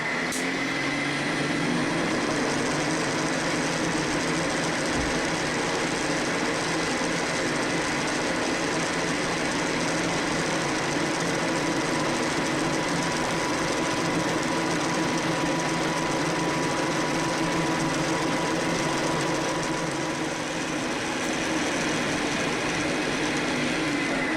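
A steady, continuous mechanical whir of a drill boring an 8.5 mm hole through steel (not tool steel), running without pause for the whole stretch with a constant grinding hum.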